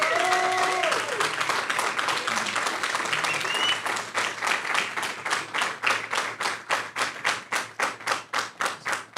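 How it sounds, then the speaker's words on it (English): A crowd at a LAN esports tournament grand final applauds steadily, then the clapping settles into a rhythmic, unified beat that continues to the end; faint voices mix in at the start. "a round of applause for them."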